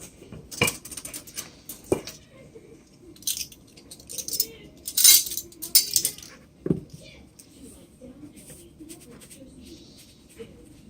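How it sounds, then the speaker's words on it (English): A measuring spoon taps and clinks against a bowl and dishes while four teaspoons of salt go into pancake batter ingredients, several separate metallic chinks spread out between quieter handling noises and some talking. "I'm going to add 4 teaspoons of salt"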